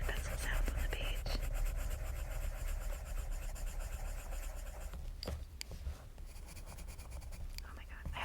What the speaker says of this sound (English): I love that, the colored pencil sound on the page.